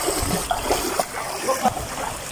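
Floodwater from Typhoon Carina covers a farm field and splashes and sloshes continuously, with irregular bursts of splashing as someone wades through it, close and fairly loud.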